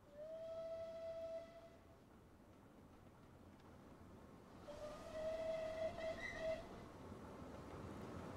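A steam locomotive whistle from the Merchant Navy class locomotive Clan Line in Train Simulator 2020 blows twice, each a long, steady tone lasting nearly two seconds, separated by a quiet stretch of low background hiss.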